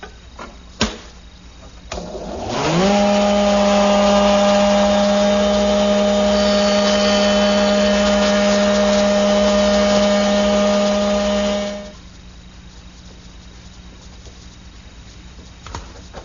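A router shaper table spins up with a rising whine and holds a steady, loud motor tone for roughly nine seconds as a 1/4 inch bead cutter mills one edge of 1 1/8 inch wood stock, then spins down to quiet.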